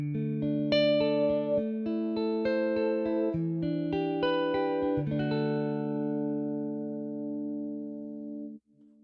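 Virtual electric guitar instrument Velvet Guitars played without tremolo, a steady sequence of clean sustained chords and single notes with a little reverb, alone and fairly loud, ending with a held chord that cuts off.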